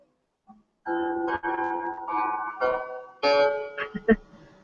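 A plucked Chinese qin zither string is sounded repeatedly while being tuned, notes sliding and ringing close with short quiet gaps.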